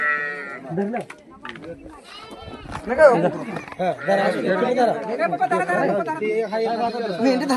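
Sheep bleat amid a lively village birthday celebration, their cries mixed into a loud crowd of overlapping chatter and voices that carries on throughout.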